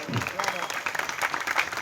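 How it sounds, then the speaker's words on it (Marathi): An audience at a Varkari devotional gathering claps together in a brief burst of applause, steady and fairly close, with a murmur of voices mixed in. "त्यांच्याकरता एकदा टाळ्या वाजवा."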